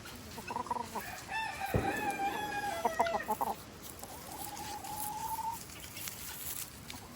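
Chickens and a guinea fowl call on a farm animal sanctuary, with a rooster-like crow and clucking calls rising and falling at close range, plus a sharp thump partway through, amid light background chatter.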